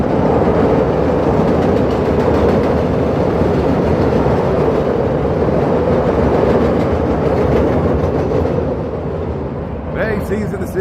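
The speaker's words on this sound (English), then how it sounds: "Here we're going to get the CTA train coming by here" A Chicago CTA elevated train roars past near Wrightwood and Lincoln, a loud, steady rumble and rattle of wheels on track filling the street, easing slightly near the end with a voice briefly audible.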